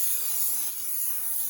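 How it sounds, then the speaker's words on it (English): Non-stick cooking spray hisses steadily into a crockpot around melting butter, one continuous close spray for just over a second. "So I'm going to go ahead and spray some around the butter."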